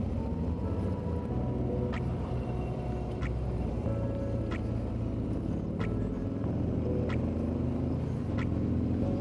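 A 2024 Harley-Davidson Freewheeler three-wheeled touring trike engine pulls hard out of a corner, a steady loud low rumble with no voices, a few faint regular clicks running through it.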